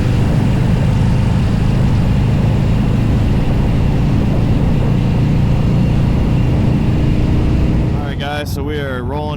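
A Harley-Davidson CVO Street Glide motorcycle cruises with a steady, loud engine drone and rushing wind, easing off near the end as the rider slows down.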